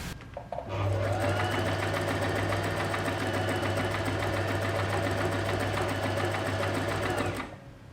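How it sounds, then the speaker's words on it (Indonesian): A Messina N808 sewing machine stitches through two layers of thick denim, starting up after a brief pause and then running in a fast, steady mechanical rattle before stopping at the end. "Messina juga bisa nih menjahit dua lapis bahan jeans yang cukup tebal"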